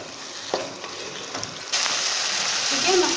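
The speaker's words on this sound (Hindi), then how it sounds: "अब इसकी 1-2 मिनट में भुनाई करूँगी।" Masala roasts in a pan over a raised stove flame for chana pulao, a steady close sizzle with occasional stirring scrapes, growing louder partway through.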